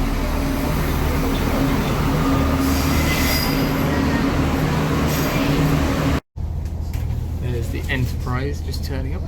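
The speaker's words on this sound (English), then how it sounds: "Enterprise just turning up. That's the train that's just come from Belfast." Close, loud squealing of train wheels as the Enterprise train from Belfast pulls into a station, a continuous rumbling grind with high-pitched screeches, then a quieter stretch with a voice speaking.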